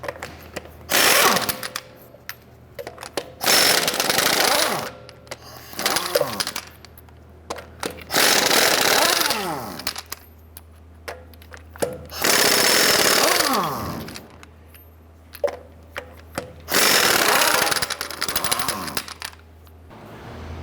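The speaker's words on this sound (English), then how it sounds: "let's go ahead and remove our lug nuts" An impact wrench fitted with a 22mm socket spins off the lug nuts on the front wheel of a 2011-2018 Ram 1500, firing in several loud, rattling bursts separated by short pauses.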